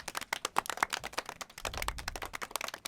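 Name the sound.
small applause for podcast host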